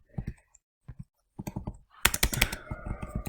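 Typing on a computer keyboard: scattered soft key taps in short bursts, then a denser run of sharp clicks, close to the listener with quiet gaps between groups and no talking.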